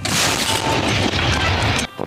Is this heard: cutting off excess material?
no